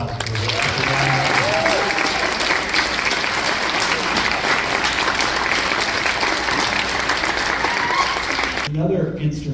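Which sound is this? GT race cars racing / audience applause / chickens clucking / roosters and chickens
audience applause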